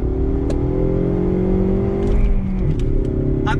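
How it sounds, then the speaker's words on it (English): A 2019 Ford Mustang EcoBoost with a 6-speed manual pulls away under throttle, its engine drone climbing steadily in pitch from inside the cabin, loud and continuous with a few faint clatters and no talk. "We're in the 2019 Mustang EcoBoost with the 6-speed. Let's go ahead and get on throttle."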